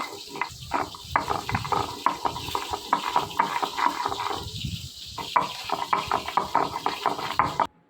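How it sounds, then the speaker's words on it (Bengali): Chili, ginger and whole cumin being ground into masala with a little water, a rapid gritty grinding and clattering rhythm that runs steadily for several seconds, briefly pausing midway before resuming and then stopping abruptly. "এবার আমি তার মধ্যে সামান্য জল দিয়ে ভালো করে মশলাটাকে বেটে নেব।"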